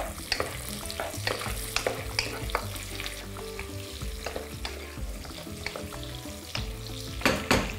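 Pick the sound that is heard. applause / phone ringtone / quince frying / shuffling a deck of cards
quince frying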